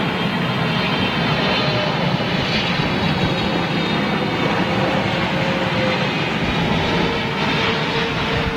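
Eva Air Boeing 777 airliner landing at London Heathrow, a steady loud jet engine roar with broadband rumble holding throughout, no talking.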